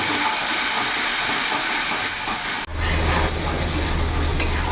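A ginger, garlic and green chili masala paste with a splash of water is sautéed in a pan, a loud continuous close sizzle and hiss that briefly drops out, then resumes with a deeper roar.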